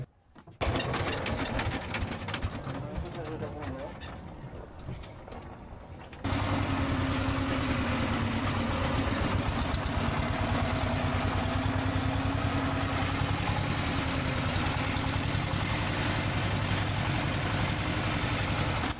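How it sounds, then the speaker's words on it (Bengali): A motorboat engine drones loudly and continuously on a river boat to Sada Pathor in Sylhet, its steady mechanical rattle growing louder partway through and staying constant. "আমরা যে নৌকাতে করে এখন সাদা পাথর যাচ্ছি এই নৌকাগুলোতে কিন্তু আসলে অনেক শব্দ"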